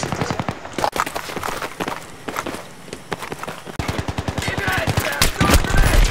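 Rapid automatic gunfire in the video game Battlefield 3, loud bursts of close shots with clattering footsteps between them, the firing dense and repeated throughout while a voice talks briefly over it.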